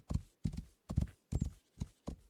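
A ridden horse gallops in the game Rising World, six thudding hoof strides in even rhythm, near and prominent, with nothing else over them.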